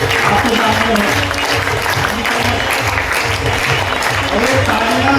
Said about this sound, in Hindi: हाथ ऊपर करके बहुत बड़ा व्यक्ति के लिए तालियां बजाइए।